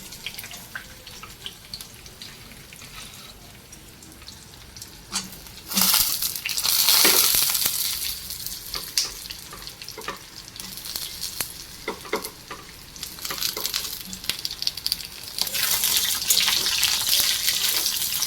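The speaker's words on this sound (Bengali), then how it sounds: "এখন ঝিঙেটা ভাজছি" Ridge gourd fries in hot oil, a close, steady sizzle and hiss that grows louder partway through as the pieces are stirred, with scattered crackles and no speech.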